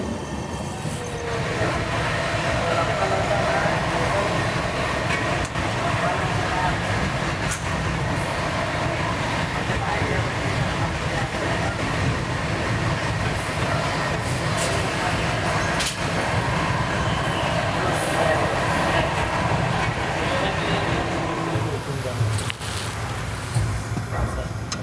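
Mumbai Amravati Superfast Express 12111 rolling along, a loud continuous rumble and rattle of the sleeper coach with occasional clanks and high squeals, steady throughout from inside the carriage.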